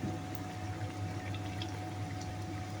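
Water is poured into a pan of Kerala fish curry before ground coconut is added, making a soft, steady gurgling stream of liquid that continues evenly and fairly quietly throughout.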